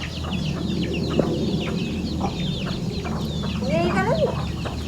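Several chickens cluck and chatter nearby in short repeated bursts over a low steady background hum, with one louder squawking call near the end.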